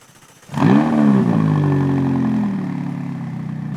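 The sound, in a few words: supercar engine starting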